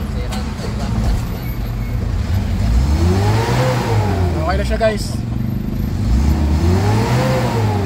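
A Mitsubishi Adventure engine revs up and down in repeated swells, loud and close, with someone speaking over the engine noise.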